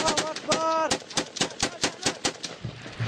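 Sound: tank T-72 being blown up in Syria war

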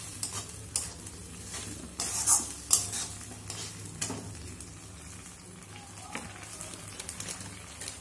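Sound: mixing mustard, garlic and chilli paste with pomfret

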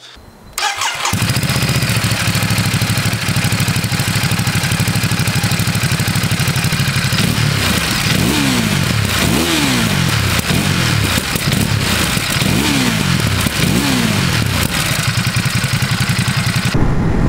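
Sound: Ducati Monster SP motorcycle riding with Termignoni exhaust

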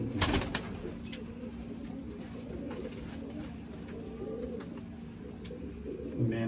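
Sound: pigeons cooing

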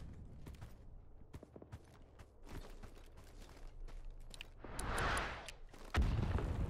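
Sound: friendly artillery shells landing in the video game Rising Storm 2: Vietnam

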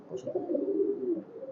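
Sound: pigeons cooing

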